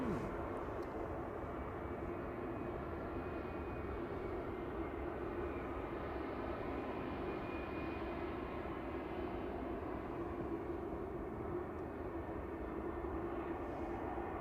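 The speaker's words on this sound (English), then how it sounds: "A220 lining up." An Airbus A220 airliner lining up on the runway at Manchester Airport, a steady broadband engine roar held at constant level throughout, moderately distant, with no speech.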